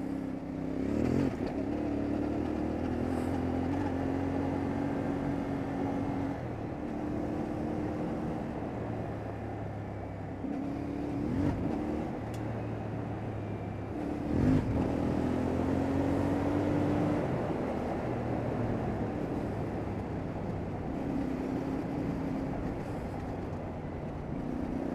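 A CFMoto 450MT motorcycle runs and accelerates on a ride, its engine note rising and falling through repeated throttle pulls and gear changes, heard from the rider's position under steady wind rush.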